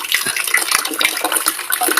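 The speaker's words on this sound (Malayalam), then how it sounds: "ടാങ്ക് മെല്ലെ നിറയുന്നുണ്ട് ഇതാ വെള്ളം വരുന്നുണ്ട്" Water gushes from a pipe into a storage tank, a steady splashing rush with small bubbling pulses, close by and fairly loud, with no voices over it.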